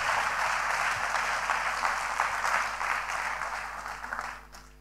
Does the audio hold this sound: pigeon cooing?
no